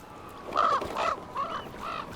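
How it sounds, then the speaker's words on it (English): A crow caws four times in quick succession, loud and close, in Dragon Age: The Veilguard, each harsh call short and evenly spaced. "Bird."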